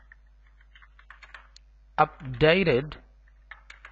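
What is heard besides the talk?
typing on a computer keyboard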